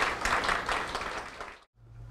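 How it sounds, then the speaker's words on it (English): Audience applause for Dr. John Hatcher at a talk, a dense burst of clapping from a crowd that fills the room and then cuts off abruptly near the end, leaving a low hum. "let's give a big round of applause to Dr. John Hatcher"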